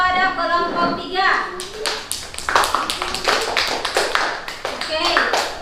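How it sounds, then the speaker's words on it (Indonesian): Applause for a student group in a classroom presentation session, many hands clapping together in a dense, lively patter that builds after a brief voice at the start. "berikan aplaus kepada kelompok 3"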